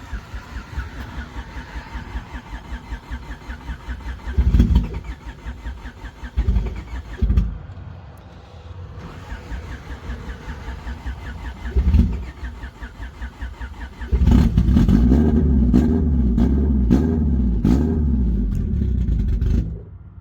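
A car engine fitted with a Bisimoto spec head cranks in several short bursts, then catches and runs at a loud, steady rumble close by.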